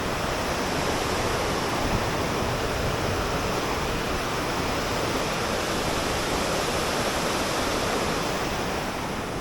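A steady, dense roar of falling water from Penawangan Srunggo waterfall in Bantul, Yogyakarta, fills the air without pause, loud and unchanging throughout.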